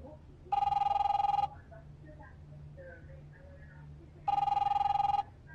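A telephone rings twice in the video game The Wolf Among Us, two loud, steady electronic ring bursts of about a second each separated by a pause, with quiet background murmur between them.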